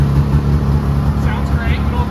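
A 2005 Ski-Doo GSX Limited snowmobile with a Rev 600SDI engine runs loudly and close, a steady rumbling idle with faint higher whines, and voices mixed in.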